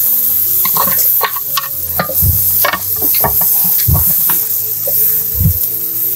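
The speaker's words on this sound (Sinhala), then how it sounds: "දැන් පරිප්පු ටික එකතු කරනවා" Lentils go into a pot of sizzling tempered spices with turmeric for a one-pot dal rice, giving a loud, continuous sizzle broken by repeated scraping and clinking stirs.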